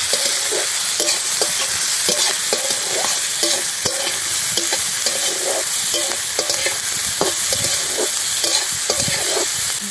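Chopped capsicum and green chili with a pinch of salt get stirred in a hot pan for egg chowmein, a steady bright sizzle broken by repeated scraping strokes of the spatula, close and continuous with no talk.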